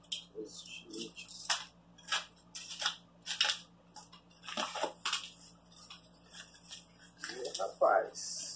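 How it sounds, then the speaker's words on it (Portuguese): A box cutter slices open a package of metal records: a string of short, sharp scraping and tearing bursts, close and fairly loud, with pauses between strokes. "passar o estilete aqui"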